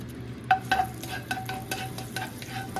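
Butter and about a tablespoon of cooking oil in a heated pan give a soft steady sizzle, with a utensil scraping and tapping against the pan several times, close by, no talk.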